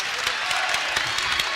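Crowd in a high school gym applauding the seniors at a boys basketball senior night, Homestead versus Concordia, a moderate wash of clapping with a few sharper claps, heard at a distance and fairly steady.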